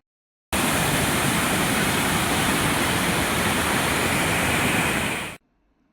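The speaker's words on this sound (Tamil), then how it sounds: "மேற்கு தொடர்ச்சி மலையில் கனமழை பெய்வதால் கோவை குற்றாலம் அருவியில் வெள்ளப்பெருக்கு ஏற்பட்டுள்ளது" Kovai Kutralam waterfall in flood after heavy monsoon rain in the Western Ghats, a loud, steady roar of rushing water that fills the clip from start to finish without a break, then cuts off abruptly.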